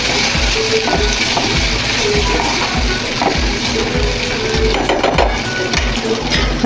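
Guar beans sautéing in oil in a pan, a steady close sizzle and crackle with faint spatula scraping, continuous throughout.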